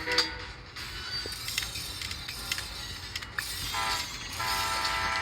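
Trains rolling and sounding horns in the mobile game Train Conductor World, on a Norway map with many trains spawning on two tracks; a steady mechanical rumble with bright tonal horn blasts layered throughout, fairly constant in level.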